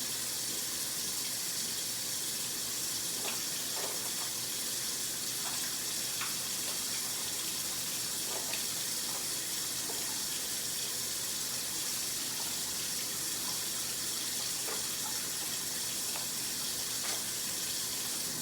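Water runs steadily from a sink tap during handwashing, a constant hiss and splash close by with a few small clatters, and no talking.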